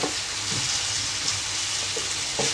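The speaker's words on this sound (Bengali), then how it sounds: "এটাকে ভালো করে ফ্রাই করে নিতে হবে।" Chopped onion, ginger and garlic frying in a pan give a steady, close hiss of sizzling throughout, with a few faint scrapes and clicks, and no talking.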